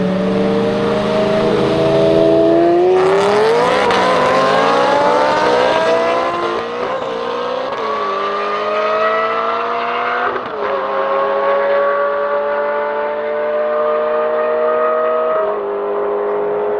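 A BMW M3 E92 with a G-Power supercharged V8 accelerates hard, its engine note climbing steeply through repeated gear pulls, with loud, continuous revving and brief dips at each shift.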